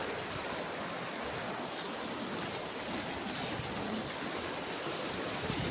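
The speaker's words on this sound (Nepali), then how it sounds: "अनि त्यस पछाडि यो चाहिँ यस्तो बाढी आइरहेछ यहाँ।" Floodwater surges past a house in Itahari, Nepal as a loud, steady broadband rush with no breaks, like heavy surf or a swollen river, close and continuous with some wind buffeting.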